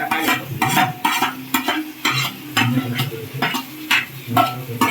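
Chopped tomatoes cooking in a pan for sprouted green gravy, with a steady sizzle under repeated stirring strokes of a spoon against the pan, close and loud, no voices.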